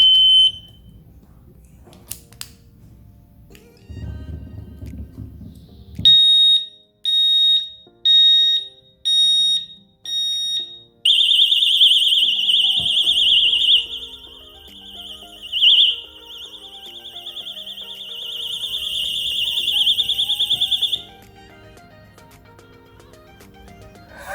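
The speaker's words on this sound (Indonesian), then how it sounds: "ini soalnya tadi alarmnya bunyi terus ini" A motorcycle disc lock alarm gives shrill electronic beeps in a short rapid series, then a long continuous high-pitched wail for several seconds before it cuts off, with handling noises around it.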